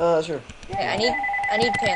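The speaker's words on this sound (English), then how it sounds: "Sorry about the phone" A telephone rings in a room, a short bright electronic trill at the start, while several people talk and banter over it during a gaming session.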